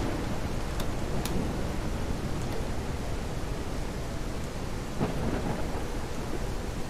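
Thunderstorm in The Isle game: steady heavy rain hiss throughout with a few sharp nearby thunder cracks, loud and continuous with no talk.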